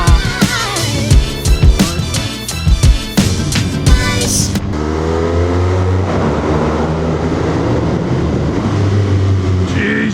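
Motorcycle engine accelerating on a mountain road, a loud rising drone with strong wind roar after a burst of rapid revving and gear changes, close to the microphone.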